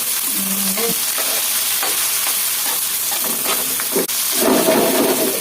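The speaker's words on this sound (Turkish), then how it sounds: "Karıştıralım. Şöyle güzel bir kavuruyoruz." Tomatoes being stirred and sautéed in a pan, mint added, with a steady close sizzle and scraping stir strokes throughout, a brief quiet dip near the end before the frying swells again.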